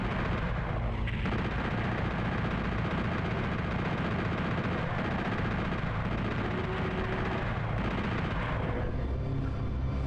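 Gunfire in PSX Doom Master Edition: dense, loud, continuous blasts and rumbling explosions with a constant heavy background, barely letting up for the whole stretch and heard alone without talk.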